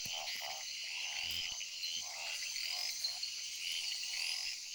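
Jungle frogs croak in a steady pulsing chorus in a humid jungle, repeating calls layered over a dense high buzz of insects, with no voices.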